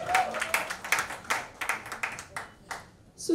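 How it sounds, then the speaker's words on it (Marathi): Audience applause for the cast at a new Marathi film event: scattered, uneven clapping with distinct hand-claps, fairly close, under light talk. "या सगळ्या कलाकारांसाठी जोरदार टाळ्या झाल्या पाहिजेत"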